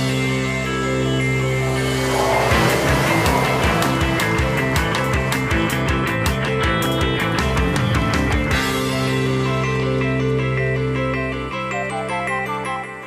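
A 2013 Buick Encore AWD on the move, with a steady engine and road drone that swells into a rougher, pulsing stretch before settling back to an even hum, close and without talk.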